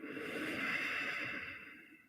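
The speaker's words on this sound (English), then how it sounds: "Breathe out through your nose" A long, steady exhale through the nose during a guided breathing meditation, a soft airy rush that swells slightly and then fades over about two seconds, close and alone with no talking.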